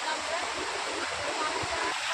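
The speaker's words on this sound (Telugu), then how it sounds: "నీళ్ళు పడుతున్నాయి చూడండి ఫ్రెండ్స్" A small waterfall pours, a close, continuous broadband rush of falling water that stays steady for the whole moment.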